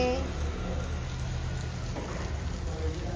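Steady rain falls on an outdoor street in the evening during a power cut on Diwali, a soft continuous hiss of drops hitting surfaces close by, with faint sounds of people in the background.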